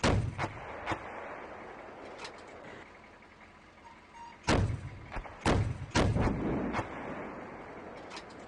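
Heavy tank and artillery fire in the Steel Beasts Pro tank simulator: a few scattered booming thumps with sharp onsets, spread between quieter stretches of low rumble, the strongest blasts landing near the middle and end.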